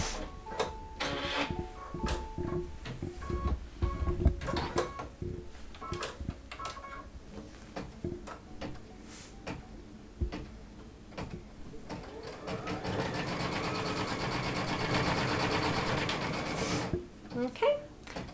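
An embroidery machine stitches an in-the-hoop bunny slipper sole, a busy clatter of rapid needle taps and thumps with a steadier hum in the later part, recorded close.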